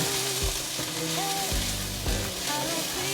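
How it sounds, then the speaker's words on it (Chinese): King oyster mushrooms pan-fry to golden brown, giving a steady close sizzle with occasional soft thumps and scrapes as the pieces are stirred and turned. "把杏鮑菇先給它炒成金黃色， 讓它稍微煎煎"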